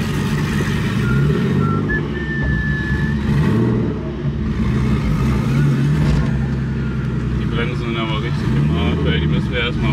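A turbocharged drift car rolls onto the track at the IRONDRIFTKING 2024 drifting event, its engine droning and revving loudly and steadily throughout, while people talk over the noise.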